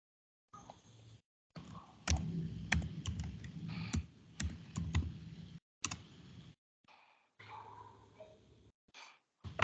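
Typing on a computer keyboard at a command prompt, close and crisp, in quick bursts of key clicks broken by short silent pauses.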